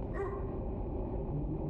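Gunpowder, a dog in the horror video game Teleforum, barks briefly over a low, murky ambient drone, the yelps faint and short against the dark background.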